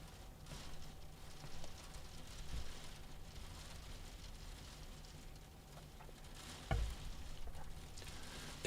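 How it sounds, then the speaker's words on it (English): Heavy rain with a hint of soft hail pours down in a steady, dense patter, a continuous broadband wash with a few sharper knocks, fairly faint and without talk. "I don't think that's just rain."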